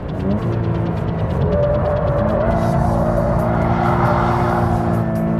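Sports car engine droning loud and close while sliding sideways through a corner, a continuous throbbing roar with wavering pitch that holds for the whole stretch, with no voices over it.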